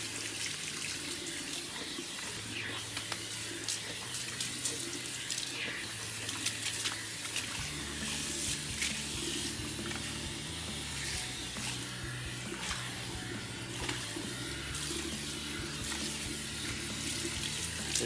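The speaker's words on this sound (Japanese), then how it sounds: "このお流しである程度の汚れというかをしっかりと取っていくので、この最初のすすぎはしっかりとやってください。" Warm water at about 38 to 40 °C runs steadily from a salon shower head while hair is rinsed before shampooing, a continuous close splashing hiss that shifts slightly in tone partway through, with no talking.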